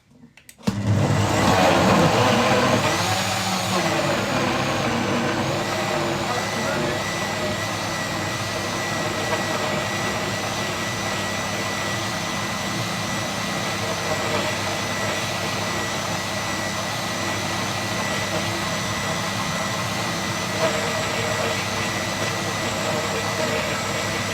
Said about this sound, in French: maintenant on va mixer